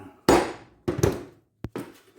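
Two solid hammer blows land on a center punch marking metal for drilling tow hooks on a Hummer H2, followed by a sharper light tap and a softer knock, close and distinct.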